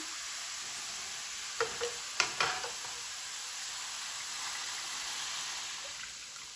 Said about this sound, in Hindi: अब यहाँ पे मैं दूध ऐड कर दूंगी